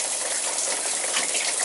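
Water gushes steadily from a leaking boiler water feeder, a loud, continuous broadband rush with no pauses.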